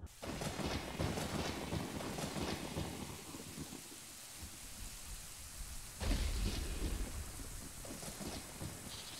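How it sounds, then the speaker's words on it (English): Thunder and steady rain in Zelda: Ocarina of Time, a dense hiss of rainfall throughout with a deep rumbling thunderclap rolling in partway, fairly faint overall. "Oh, and we got struck by lightning?"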